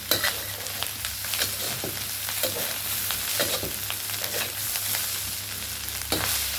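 Thai fried rice with nem (fermented pork) stir-fried in a pan with a hard spatula: irregular scraping and clacking strokes over a steady sizzle, close and moderately loud.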